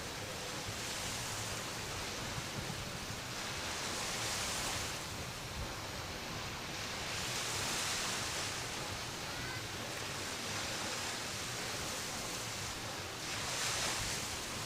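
Choppy water waves on a jet ski race course, a constant broad roar of surf and wind that swells and eases in slow surges, with no voices over it.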